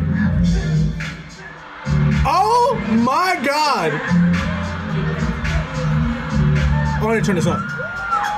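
Concert crowd at a performance cheering and whooping loudly in bursts, with shrill rising screams standing out, while people nearby talk excitedly over it.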